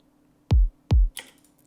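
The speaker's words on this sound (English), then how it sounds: "This is how the main kick sounds." A punchy main kick drum sample for a future bass track thumps twice with deep, booming low end, followed by a brief noisy click.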